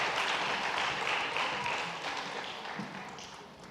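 A church congregation applauding a couple of families during a Sunday worship service, a dense wash of many hands clapping in a large room that fades gradually.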